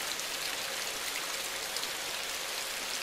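Steady, dense rainfall in the video game INSIDE: a continuous hiss of drops pattering on surfaces, even and unbroken throughout with no other sounds over it.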